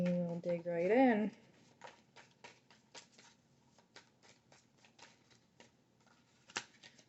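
Tarot cards shuffled by hand in a short run of soft, crisp riffles and taps, close and fairly quiet, following a brief burst of speech at the start.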